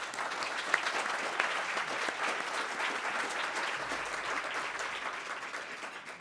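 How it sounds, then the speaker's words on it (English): Steady round of applause from the audience at a City Club annual meeting, a dense wash of many hands clapping at an even level throughout, with no voices standing out. "I'd like to give them all a round of applause."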